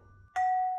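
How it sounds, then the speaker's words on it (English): A cosmophone sounds a doorbell ding-dong note: a sudden pure, bell-like tone strikes and holds steady and clear, close and fairly loud, with nothing else heard. "Cosmophone."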